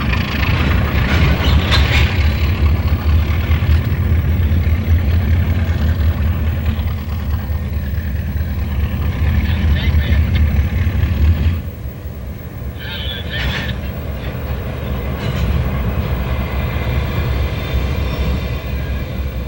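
Baldwin diesel locomotives at Trona shuffle covered hoppers of potash and salt cake in 1989, making a loud, steady low engine rumble that eases slightly partway through.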